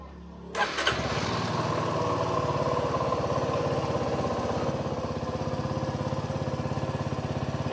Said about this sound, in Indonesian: Suara khas mesin motor 1 silinder tanpa radiator, jadi berpendingin oli.